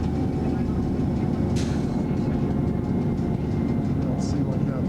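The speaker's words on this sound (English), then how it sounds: "Train coming down from the mountain." The Pikes Peak cog railway train comes down the mountain in Manitou Springs, Colorado, as a steady low rumble with engine drone throughout, close and continuous, with a brief higher screech partway through.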